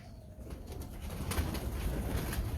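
Pigeons in a loft give low, soft coos under a steady background rustle and noise, with a hint of wing movement.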